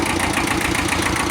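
A Kubota tractor engine, just repaired for low oil pressure, idles steadily and loud up close with a constant mid-pitched rumble and faint knocking texture, no voices over it.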